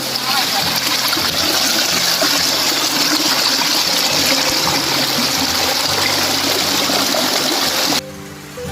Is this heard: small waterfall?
yes